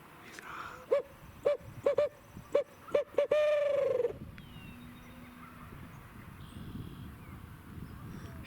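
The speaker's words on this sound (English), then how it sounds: "He gobbled mid owl hoop." In wet spring woods of upstate New York, a rhythmic series of owl hoots rings out, then a wild turkey answers with a loud rolling gobble that cuts into the hooting. Quiet, rainy outdoor ambience follows.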